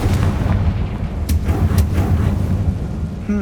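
A blasting spell explodes a barricade in the Hogwarts Legacy video game: loud rumbling booms with a couple of sharp, cracking bursts, no talk over it.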